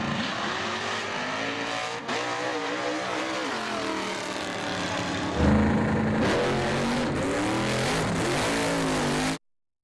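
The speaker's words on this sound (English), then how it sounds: "a couple of cars doing wheelies" Drag race cars with nitrous launch hard enough to lift into wheelies, engines roaring loud and continuous with rising and falling revs, a sharp surge midway, then cutting off abruptly.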